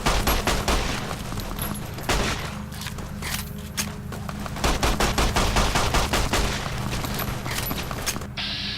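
Rapid gunfire from modded weapons in Fallout New Vegas, dense bursts of sharp close shots repeating across the whole stretch with short gaps between volleys.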